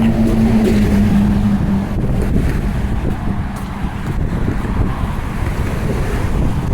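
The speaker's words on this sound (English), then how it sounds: "now we're getting out of the wind a bit" Strong wind buffets the microphone on the Macdonald Bridge over Halifax harbour, a loud, steady roar with low rumble, constant throughout with no talk.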